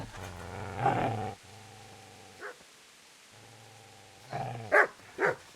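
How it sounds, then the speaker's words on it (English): A dog barks and growls in the medieval countryside of Kingdom Come Deliverance: a sustained low growl, a gap, then another growl that breaks into a few sharp, fairly close barks, with no talk over it. "Get away, you mutt!"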